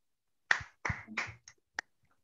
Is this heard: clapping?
yes